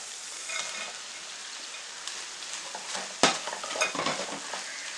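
Bread is stirred into an onion masala frying over a slow flame, with a constant soft sizzle and intermittent spoon scrapes, one sharper knock near the middle, and no speech.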